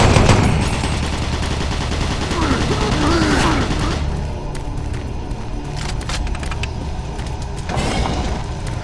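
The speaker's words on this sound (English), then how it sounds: "Warning. Automated turret guns online." Automated turret guns in Doom 3 fire continuously in loud, dense bursts of rapid shots, with a sharp burst of impacts near the end.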